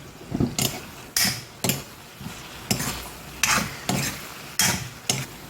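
Garlic and tomato sautéing in a pan as a utensil scrapes and stirs in repeated strokes roughly every half second to a second, with no voices.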